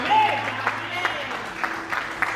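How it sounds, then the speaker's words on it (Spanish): Church congregation applauding in a Spanish-language service, moderately loud clapping with scattered voices and a preacher speaking over it. "Dame un aplauso al Señor y a estos vencedores en Cristo Jesús."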